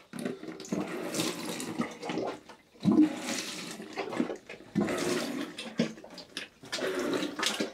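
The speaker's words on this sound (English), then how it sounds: "I'm going to just sprinkle a little bit of water on them." Water is sprinkled and splashed by hand onto cloth wicks of homemade self-watering chilli pots, heard as several close, irregular bursts of splashing and dripping separated by short pauses.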